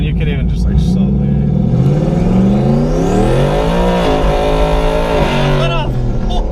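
An 800hp turbocharged Ford Mustang accelerates hard, its engine note rising and sweeping through gears loudly and close, with a brief tire squeal and voices underneath.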